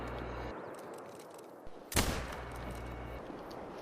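A single loud rifle shot rings out while hunting in theHunter: Call of the Wild, a sharp crack about midway over a steady low game-world background.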